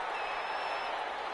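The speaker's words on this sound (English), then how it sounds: "How about some applause for the defense there?" A football stadium crowd applauding, a steady broad wash of clapping and crowd noise, brief and evenly loud with no pauses.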